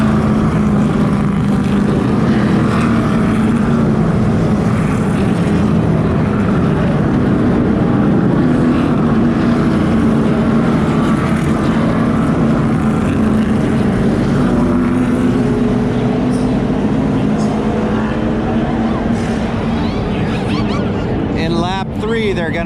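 NASCAR race cars at the Daytona 500, a loud continuous engine roar filling the track for the whole stretch, steady and dense without letting up.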